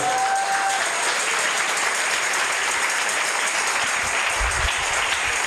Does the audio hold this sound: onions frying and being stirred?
no